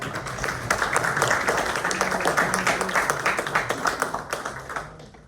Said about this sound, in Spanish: Por favor, aplausos para la ingeniera